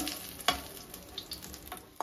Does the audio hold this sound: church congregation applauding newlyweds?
no